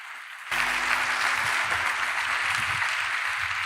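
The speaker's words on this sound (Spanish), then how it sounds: "Por favor, démosle la bienvenida con un cálido aplauso." A warm round of audience applause at a university Formula Student car presentation, breaking out suddenly after a quiet moment and continuing as steady, full clapping from the crowd.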